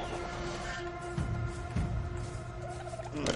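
A bird creature in Ark: Survival Evolved gobbles and squawks in short turkey-like bursts over a steady droning game backdrop, fairly close and moderately loud.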